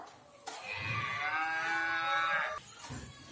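A single long, drawn-out moo from a cow, loud and close, lasting about two seconds with nothing else around it.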